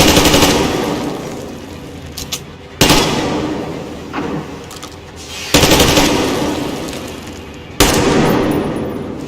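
Gunfire in the video game Metro Exodus: loud, close bursts of rapid shots with a sharp report roughly every two to three seconds over a continuous rumble of combat.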